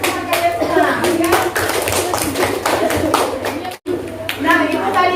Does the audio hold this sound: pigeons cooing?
no